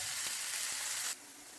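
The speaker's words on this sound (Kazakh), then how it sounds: "біздің самсамызға ет пен пиязды суы кеткенше шамалы қуырып тұрып аламыз" Minced meat and onions for samsa filling frying in a pan, a steady faint sizzle with a couple of soft stirring knocks that drops to a quieter hiss partway through.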